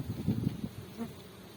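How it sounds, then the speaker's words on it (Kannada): A swarm of thousands of honeybees settling into a new spot buzzes in a dense, steady low drone, close and continuous for a moment with no voices. "ಸುಮಾರು ಸಾವಿರಾರು ಜೇನು ನೊಣಗಳು"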